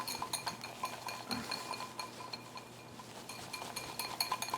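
Whisk or spoon clinking steadily against a bowl while cannelé batter of flour, milk and egg is mixed, a quiet rhythmic tapping and scraping with no talk.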